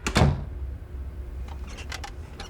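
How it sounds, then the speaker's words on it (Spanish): An office door inside a house is slammed shut with one sharp, close thud, followed by quiet room tone and a few faint clicks. "cierra con fuerza la puerta tras de sí"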